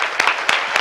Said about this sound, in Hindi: सब जोर से तालियां बजाएं।